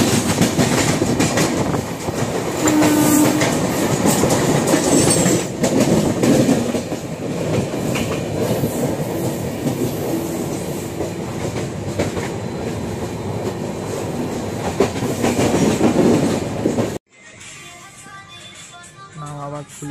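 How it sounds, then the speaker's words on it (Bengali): A local train runs on its tracks with a steady loud rumble and rhythmic clatter, then cuts abruptly to a quieter interior near the end. "লোকাল ট্রেন চলছে।"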